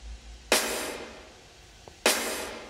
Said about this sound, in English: Really hard cracking snare sounds there.